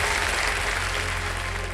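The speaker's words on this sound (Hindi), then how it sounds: "तालियां बज जाएं इनके लिए।" A studio audience at a quiz show breaks into dense, steady applause for a young contestant, a loud wash of clapping that carries through evenly.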